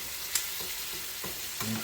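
Shrimp frying in a curry while being stirred, a quiet, even sizzle with a few soft spoon and pan scrapes, no talk.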